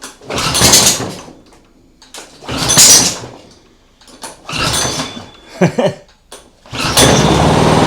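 A lawn mower engine rigged as an outboard motor cranks in several loud separate bursts, with gaps between the tries, before catching and running steadily at the end; no talk is heard.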